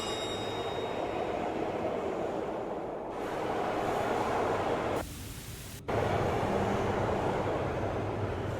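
A train in the video game Manhunt pulls away, a steady rumbling rail roar with clattering texture, briefly interrupted by a bright hissing burst midway before the rolling noise resumes.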